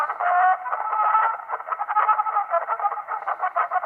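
Playback of an Edison wax cylinder phonograph recording, a thin, band-limited, crackly reproduction that runs steadily throughout with fluttering, uneven loudness and no clear voice.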